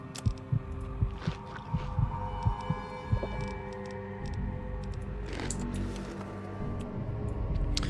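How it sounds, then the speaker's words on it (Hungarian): In Fallout 3, a heartbeat pulses in a regular low double thump during the first few seconds, then fades into a humming game background with scattered clicks. "idegesít ez a szívdobogás"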